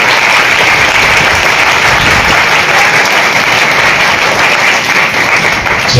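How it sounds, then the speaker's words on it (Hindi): A church congregation at a worship meeting in Ahmedabad breaks into loud, sustained applause. Many hands clap at once in a dense, even roar that holds steady throughout, with no voices over it. "क्या आप इस वचन के लिए ताली बजा सकते हैं?"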